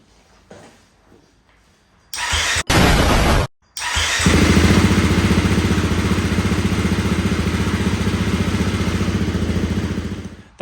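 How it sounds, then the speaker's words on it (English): Rebuilt Gasgas EC350 dirt bike engine cranks with a brief burst of noise, then catches and settles into a loud, steady, close-up idle with a rapid clattering pulse that runs to the end. "The bike started super fast"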